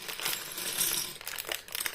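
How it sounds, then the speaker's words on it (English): Small plastic Lego bricks from a mini dinosaur set tumble out of a bag in a dense, clattering rush lasting about two seconds, with a few louder clicks near the end. "I'm just going to open this up and pour out the Lego"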